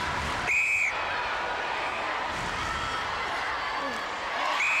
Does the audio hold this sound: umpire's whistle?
yes